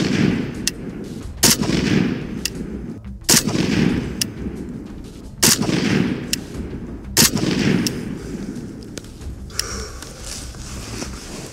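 Five shots from an AK rifle chambered in 7.62x39 at an outdoor range, sharp loud cracks spaced about two seconds apart, each ending in a short echo.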